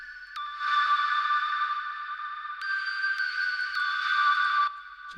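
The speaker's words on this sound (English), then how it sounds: "And this little tiny synth with big reverb." A small synth plays sustained, bright tones drenched in long reverb, with a couple of pitch changes and a washy tail lingering throughout.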